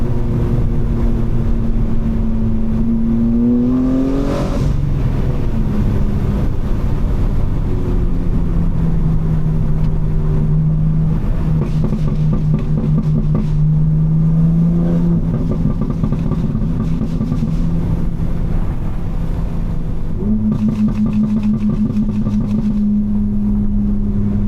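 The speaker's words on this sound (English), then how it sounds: "Y'all heard that last little burble? It sounded loud as fuck." BMW M4 with its exhaust set for maximum burbles, heard from inside at loud, close range. The engine drones and shifts pitch, and bursts of crackling pops come near the start, middle and end.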